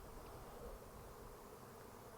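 A swarm of honey bees hums in a dense, continuous drone, low and steady, with no voices over it.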